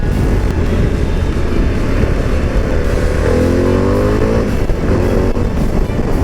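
Harley-Davidson Pan America adventure motorcycle revving hard around 6,500 RPM in third gear after a downshift, heard from the rider's position: loud, steady engine roar with rising pitch under heavy wind rush.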